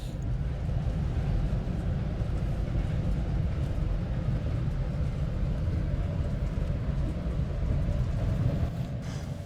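A BART train pulls into Coliseum station with a steady, loud low rumble and rolling rail noise that holds constant throughout, with no voices.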